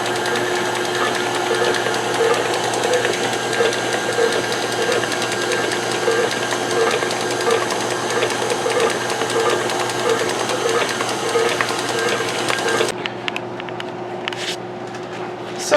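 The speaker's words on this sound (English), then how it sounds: "Lock in our mixer. Turn it back on." A stand mixer runs at a steady pitch as it mixes banana pudding cheesecake filling. The mechanical whirring is constant and close, then drops off sharply near the end, leaving faint clicks.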